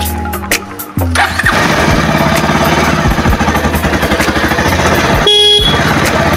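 A motorcycle engine is kicked over and catches after about a second, then idles loud and close with a rapid, throbbing putter, a short burst of revving near the end.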